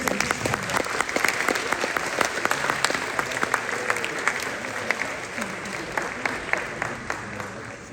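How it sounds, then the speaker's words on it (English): Audience at a high school sports awards night applauds the cheerleaders with sustained, dense clapping from a large crowd that holds steady throughout, with individual claps popping out near the microphone. "Let's give a round of applause for our cheerleaders"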